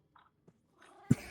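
A person imitates a cat during a Minecraft session: a few soft, brief sounds give way to a sudden loud, strained meow near the end.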